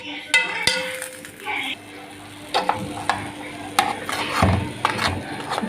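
A spoon stirs a sweet mixture of sugar and vanilla in a pot on the stove, scraping and clinking in close, repeated strokes over a soft sizzle.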